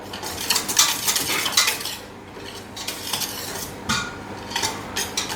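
A whisk beats chocolate beetroot brownie batter in a bowl, giving close, rapid, rhythmic clinking and scraping strokes with brief pauses between bursts and no talking.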